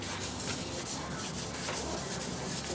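Sanding a part smooth before paint, with a continuous dry rubbing scrape repeated in even strokes, close but fairly quiet and steady throughout.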